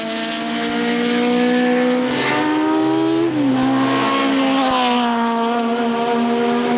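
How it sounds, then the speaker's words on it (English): Datsun/Nissan 260Z racing cars circle the Le Mans circuit, engines droning loud and steady as several pass close by, with rising and falling pitch as they accelerate and shift. "the Datsun or Nissan Z cars, the 260Z there, going around"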